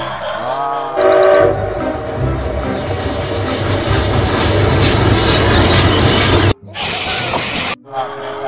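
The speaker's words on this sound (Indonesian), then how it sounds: "Wah, di sini ada kereta api, teman-teman. Coba kita nyalakan." A battery-powered Thomas toy train runs around a layout of toy vehicles, giving a loud, close, steady mechanical whir that holds for several seconds before cutting off abruptly.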